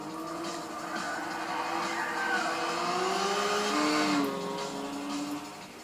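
Lancer GSR rally car from a 1974 entry in the Gran Turismo 6 racing game, its engine droning and rising steadily in pitch throughout, close and loud, with a brief tire squeal near the end.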